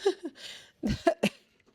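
A cough or sneeze set off by black pepper while mixing a salt-and-pepper rub for smoked pulled pork: a few close, sharp bursts in quick succession after a short breathy lead-in, then quiet.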